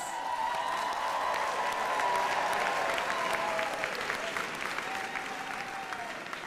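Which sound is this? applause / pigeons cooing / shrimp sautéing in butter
applause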